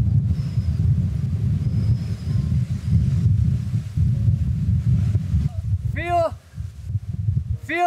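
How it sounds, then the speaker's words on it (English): Strong gusty wind on a coastal cliff in Sicily's Riserva dello Zingaro near Scopello, roaring and buffeting steadily throughout with a deep rumble, and a brief high vocal cry rising near the end. "Feel this wind."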